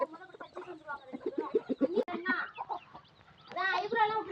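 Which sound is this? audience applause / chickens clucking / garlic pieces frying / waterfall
chickens clucking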